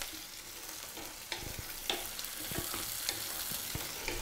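Onions and crushed garlic fry in a pan for egg curry, a bright steady sizzle close by, punctuated by several sharp stirring clacks.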